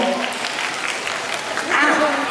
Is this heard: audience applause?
yes